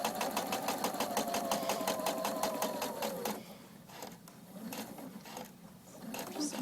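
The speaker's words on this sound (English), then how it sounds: "I'm going to stitch over it a couple stitches and then back stitch" A sewing machine stitches across a napkin seam, running fast in an even, rapid rhythm for about three seconds, then slowing into short stop-and-go bursts as it back stitches to lock the seam, close and steady.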